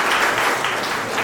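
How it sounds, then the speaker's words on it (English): Brief applause from an audience at a talk on justice by Justice Geoffrey Kiryabwire, a steady wash of clapping from a crowd, moderately loud and with no talk. "Clap for him."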